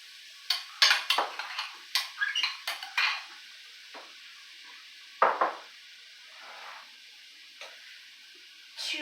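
Diced zucchini tumbles into a pot in a quick run of light knocks and clatters, followed by sparse taps and a few scattered ticks with no voices.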